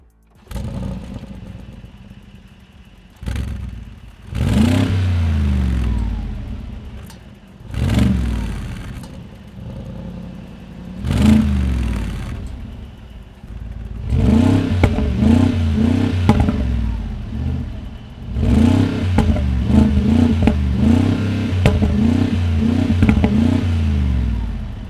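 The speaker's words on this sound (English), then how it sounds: "these twin AMG exhausts create a sound which is absolutely beautiful to listen to." Mercedes-AMG G63 with twin AMG exhausts revving hard, giving several loud, deep roaring blips and sustained pulls with short pauses between them, close by and without talk.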